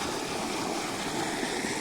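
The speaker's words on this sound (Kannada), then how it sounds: "ಇಲ್ಲಿ ಹೊಂಟಾವ ನೋಡ್ರಿ ನೀರು ಮೆಕ್ಕೆಜೋಳಕ್ಕೆ ರೀ" Irrigation water rushing steadily from a pond channel into a maize field, a continuous broadband gush close to the microphone with no talking.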